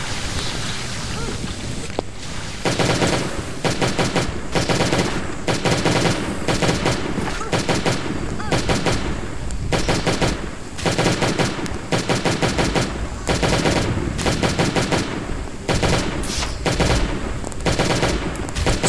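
Bursts of automatic gunfire from a weapon in the survival video game Last Day on Earth: Survival, loud rapid volleys repeating in regular clusters with short gaps between them.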